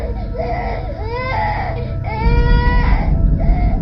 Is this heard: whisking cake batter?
no